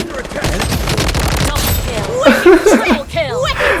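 Dual Uzis fire in the shooter game Blood Strike, a fast, dense burst of automatic shots up close while a player talks excitedly over and after it.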